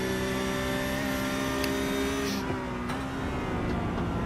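Porsche 992 Cup race car engines at the Nürburgring in iRacing, a steady loud high-pitched engine drone holding near-constant pitch and then dipping slightly, with no talking.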